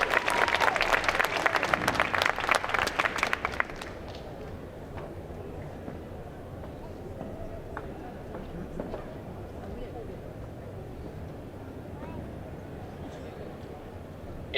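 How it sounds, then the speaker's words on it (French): A burst of audience applause at a cosplay show at a geek convention, lively for a few seconds and then fading into quieter room noise with scattered voices. "Merci de leur faire un tonnerre d'applaudissements."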